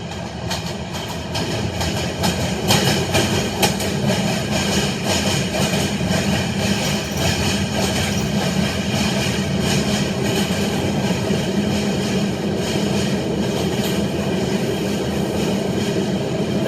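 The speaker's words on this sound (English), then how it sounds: "That's a heavy train going by" A heavy New York City subway 6 train rolls past on old tracks, a loud, steady rumble with rattling wheel clatter that holds for the whole stretch, close by and with no voices.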